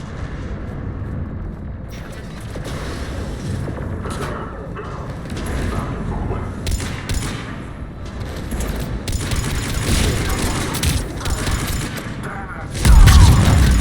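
Repeated booming cannon blasts and rumbling volleys in the video game Mass Effect build over a noisy background, heavy thuds coming in clusters, with a voice briefly heard and a loud burst at the end.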